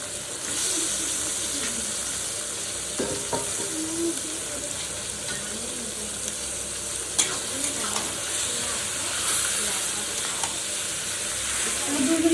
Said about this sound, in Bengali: টমেটো কিছু দিয়ে দেবো, পরিমাণ মতো হলুদের গুঁড়ো দিয়ে দেবো, মাংসগুলো দিয়ে দেবো।